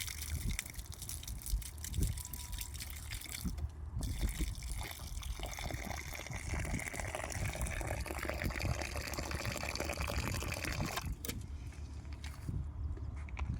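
Water is poured over the base of a tree, giving a steady, soft trickling and splashing that runs unbroken at low level, with no voices.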